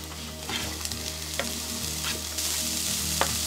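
Garlic and onion fry with smoked tofu in a pan, giving a soft, steady sizzle with occasional scraping and tapping from stirring.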